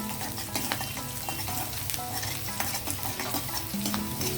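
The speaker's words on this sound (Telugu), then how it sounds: "ఇదిగోండి పోపులు వేగాయి కదా" Tempering spices for a cauliflower fry sizzling in hot oil, a loud, dense crackling fry with stirring and spoon scrapes, close and continuous, with no talking.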